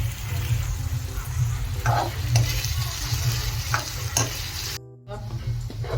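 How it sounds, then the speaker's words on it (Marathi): Onion, curry leaves and chopped green chillies sizzle steadily in a hot pan for a mutton rassa, with stirring scrapes and a brief break near the end before the frying resumes. "कांदा टाकायचा आहे कढीपत्ता आणि हिरवी मिरची आहे कट केलेली ती टाकून घेत आहे"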